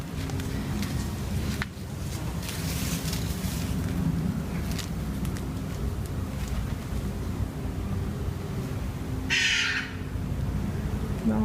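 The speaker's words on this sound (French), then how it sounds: "Bon, on peut entendre les oiseaux. On en a énormément. Plusieurs variétés." Bird calls of several species and crow-like caws ring out over a steady outdoor rumble in a garden in the Netherlands, with a brief sharper chirping burst near the end.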